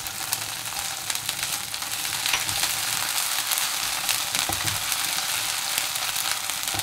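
Ginger garlic paste and chopped chilli sizzle in hot oil with golden-brown onions, a steady close crackling hiss that swells slightly partway through.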